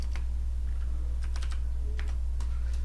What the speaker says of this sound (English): So you just double click on your command prompt shortcut here and type ipconfig.